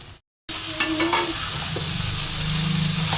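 Fried vegetables tossed into cooked spice paste in a kadai for a tangy spicy katla fish curry, a loud steady sizzle with a few scraping stirs, close and continuous after a brief silence, no voices.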